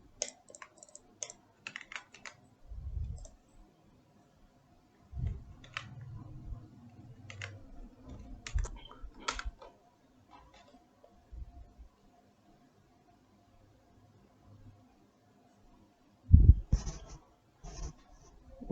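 Bursts of computer keyboard typing as a command is entered on an Ubuntu server, with clustered keystrokes separated by quiet pauses over the whole span and a louder thump near the end.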